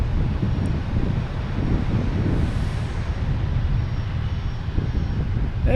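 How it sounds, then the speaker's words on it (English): A JetBlue Airbus A321neo LR arriving from London Heathrow gives a steady, moderately loud low engine rumble, with wind buffeting the microphone throughout. "We have JetBlue coming in, and A321neo LR coming in from London."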